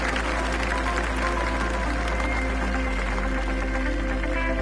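Steady crowd applause from a golf video game on PS4, rising after a player's eagle attempt on the green, filling the whole stretch as a dense, even wash of clapping.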